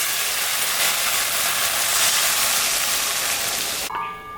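Loud, steady frying sizzle and steam hiss as water hits spice paste fried in a pan for a rohu fish curry with brinjal, cutting off sharply near the end.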